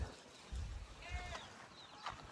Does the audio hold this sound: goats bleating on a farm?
yes